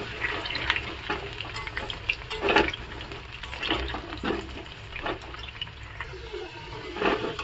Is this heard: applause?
no